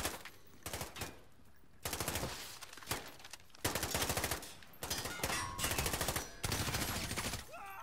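Rapid automatic gunfire in Call of Duty: Modern Warfare (2019) campaign, loud repeated bursts and volleys of machine-gun fire with brief pauses between them, no talking.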